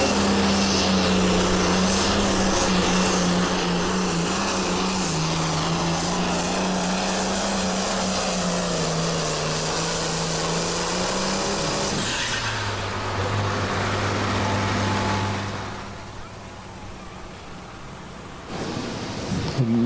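A pulling tractor named Still Fueling Around builds boost at a tractor pull event in Baraboo, Wisconsin, its engine roaring loud and steady, pitch rising slowly, then dropping at about twelve seconds into a lower drone.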